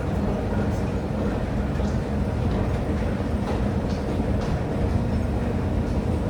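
A steady, loud rumble of a Sydney Metro train in motion fills the space, with faint rhythmic rattling and a voice speaking over it.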